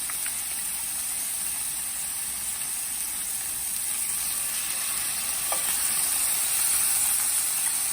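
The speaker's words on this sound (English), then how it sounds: "You guys hear the sizzling?" Steady sizzling of shrimp frying in a hot pan, a constant bright hiss with a few faint clinks, no talking.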